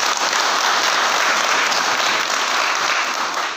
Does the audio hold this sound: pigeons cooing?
no